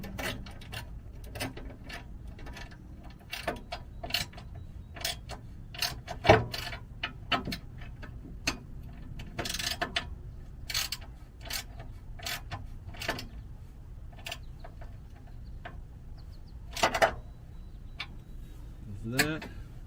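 A ratchet snugging bolts on a catalytic converter skid plate under a vehicle, giving repeated close clicking bursts in short irregular runs over a faint background hum.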